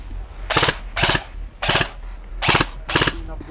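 Five sharp airsoft gun shots ring out during a Christmas skirmish game, spaced roughly half a second apart in an uneven rhythm, loud and close against a quiet outdoor background.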